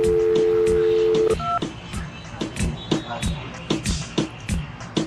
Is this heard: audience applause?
no